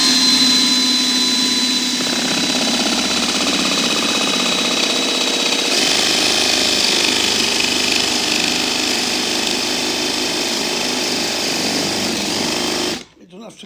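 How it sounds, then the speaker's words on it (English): A power drill bores out the centre of a wax candle, whining steadily and loud for about thirteen seconds with a shift in pitch partway through, then stopping abruptly. "I'll put the drill into the centre"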